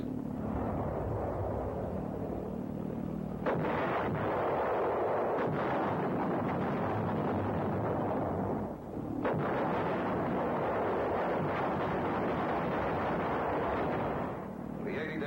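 Anti-aircraft gun battery on the south coast firing at V-1 flying bombs in 1944, a dense continuous roar of rapid booming fire with rumbling blasts, loud and sustained with short lulls, wind buffeting the microphone.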